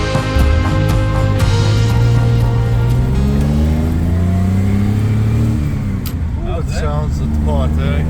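A 2003 Mercedes SL500 engine revs up loudly close by, its pitch climbing and holding before easing off, followed by a few lighter blips near the end.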